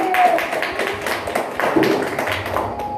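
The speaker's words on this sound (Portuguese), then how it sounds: "Então aplaude bem forte o nome de Jesus" A church congregation claps during a worship service, with quick irregular taps and claps mixed with murmuring voices and a sustained tone underneath.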